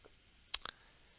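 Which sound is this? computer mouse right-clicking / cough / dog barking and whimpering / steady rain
computer mouse right-clicking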